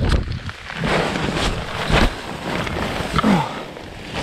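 Strong storm winds of Storm Arwen batter a tent pitched on a mountain, a loud continuous roar with gusting rushes and flapping fabric close to the microphone.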